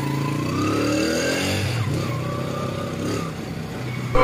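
A motorcycle engine runs loud and close, holding a steady rumble with slight rises in pitch as it revs, continuous throughout with no talking.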